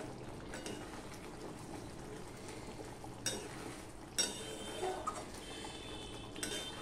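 A spoon scrapes and stirs paneer curry thickened with cashew paste in a pan, cooked without garlic, onion or tomato, with soft continuous scraping and a few sharper knocks against the pan.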